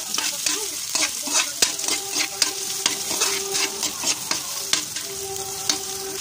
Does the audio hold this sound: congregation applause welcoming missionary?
no